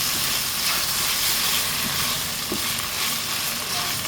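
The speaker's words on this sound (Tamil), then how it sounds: "கொஞ்சம் நல்லா வதங்கட்டும்." Tomato, onion and green chili sauté in a pan for palak paneer, a constant close sizzle with soft stirring scrapes and no talking.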